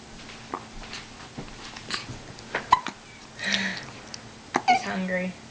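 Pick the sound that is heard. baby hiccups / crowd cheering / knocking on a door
baby hiccups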